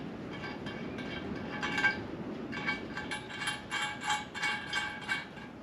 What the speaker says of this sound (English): So just used a universal Allen key and spanner to tighten it down.